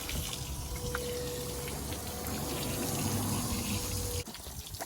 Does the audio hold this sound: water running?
yes